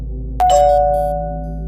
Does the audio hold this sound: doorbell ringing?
yes